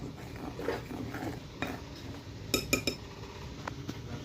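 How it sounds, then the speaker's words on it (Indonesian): Dry flour, tapioca starch and salt stirred together in a bowl by hand, with soft scraping and a few sharp clinks of utensil against the bowl, close and fairly quiet. "Ini kita aduk dulu setengah rata."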